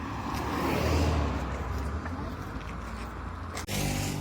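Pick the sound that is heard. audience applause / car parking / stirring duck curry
car parking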